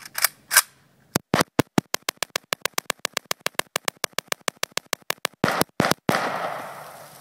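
A Draco AK-47 pistol fires a long string of sharp, evenly spaced shots, roughly thirty cracks in a steady rhythm, loud and close with no talking over them.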